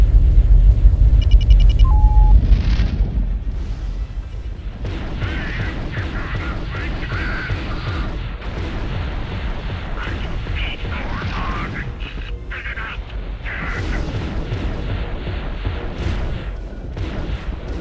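Weapons fire during Wing Commander Saga space combat, with bombers on torpedo runs: a loud burst of booming fire at first, then a sustained rumbling barrage of repeated shots and engine drone, with radio voices talking over it.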